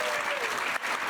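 Studio audience applause on a comedy panel show, a brief, dense burst of clapping at full strength with a voice briefly over it.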